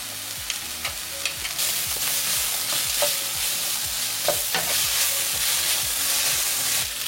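Onions fry in sunflower oil with a knob of butter, a dense steady sizzle close by, broken by sharp utensil taps and stirring scrapes, no talk.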